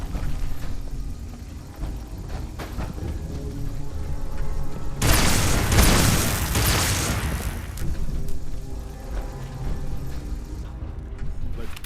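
Gunfire in Fallout 4 during a Brotherhood of Steel battle, a dense, loud burst of shots about five seconds in over a steady mechanical game background.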